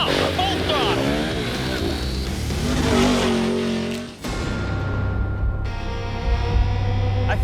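A race vehicle engine revs hard at full throttle at a driver training compound, a loud, sustained roar with rising and falling pitch sweeps, a brief dip midway, and voices over it.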